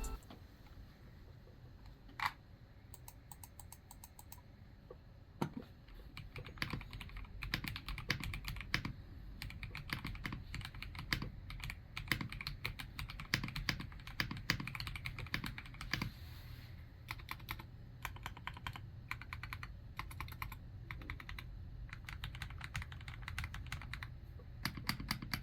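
Steady typing on a MIIIW BlackIO 83 mechanical keyboard, close and continuous, with a muted, thocky keystroke sound and no talking.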